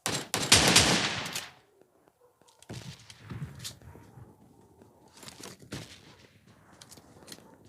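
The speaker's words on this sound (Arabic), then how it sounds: "والله الشوتجن ممتازة أغرب سلاح لدي" Shotgun fire in a video game, a dense, loud burst of blasts up front, then scattered, quieter shots and impacts following after a short pause.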